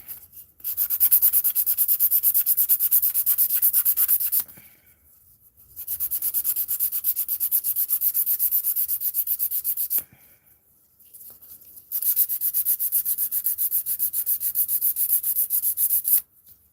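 Acrylic nails being filed, a steady rapid scraping rasp in three long strokes separated by short pauses, close and alone with no talking.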